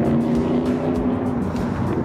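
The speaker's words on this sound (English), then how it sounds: "That's one car. Here comes another one." A car drives past an abandoned Kmart plaza, a steady loud engine and road rumble close by with no talking.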